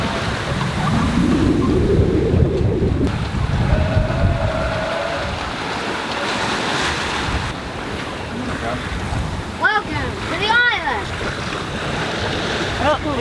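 A sailboat under way in 15 knots of wind off the northern coast of St. Lucia, with steady rushing wind and wave wash throughout, gusting buffets on the microphone, and brief faint voices near the end.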